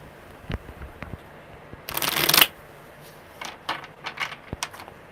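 Tarot cards shuffled in a brief riffling burst, close and fairly loud, then a few lighter taps and card snaps in a quiet room.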